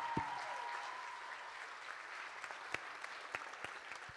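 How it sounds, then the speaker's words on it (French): Sustained audience applause for student performers at a high school talent show finale in a school auditorium, a dense steady wash of clapping from a large crowd heard at a moderate distance with a few sharper nearby claps. "Je pense qu'on peut les applaudir vraiment."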